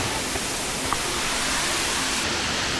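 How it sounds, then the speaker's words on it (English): Glade Creek Falls near Castlegar, BC, heard from its base as a steady, broadband roar of falling water, constant and close with no voices. "The base of Glade Creek Falls."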